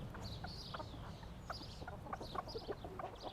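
Several hens and cockerels cluck and chatter softly, with short scattered calls rising and falling over a faint background.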